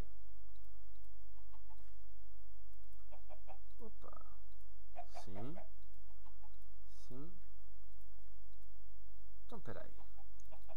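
Minecraft chickens cluck in a few short, bright bursts spread across the stretch, beneath and between a person talking over faint steady game background hum.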